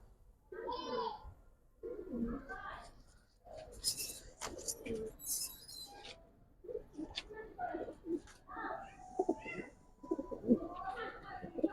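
Giribaz and colored fancy pigeons coo in a loft, soft repeated calls mixed with bursts of other bird noise, while someone talks close by throughout.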